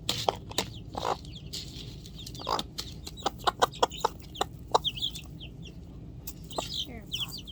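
Chickens clucking nearby, a series of short, irregular clucks and soft calls over a low background rumble, with no talk.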